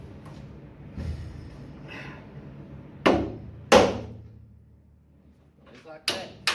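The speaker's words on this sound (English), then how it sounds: "then you strike it with a hammer" Hammer blows on an impact driver set into a stuck door hinge screw on a Volkswagen: a few sharp, loud metallic strikes spaced apart, with quieter handling noise in between.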